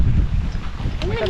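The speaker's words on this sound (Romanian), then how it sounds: "A început să bată vântul destul de tare, mai ales aproape de mare." Loud, steady sea wind at a seaside campsite roars and buffets the microphone, with rushing low rumble throughout and a faint voice at the end.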